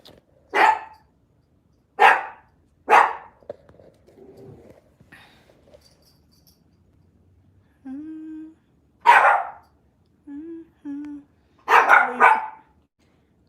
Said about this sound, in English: And he gone back to the door to go bark.